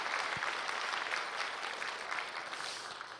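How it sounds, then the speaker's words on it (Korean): A church congregation applauds during a children's Sunday service, a dense, even wash of clapping from many hands, steady and moderately loud, tapering slightly at the end. "여러분 다시 한번 박수 한번 해주시길 바랍니다."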